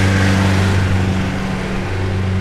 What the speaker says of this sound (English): There's a tractor going by.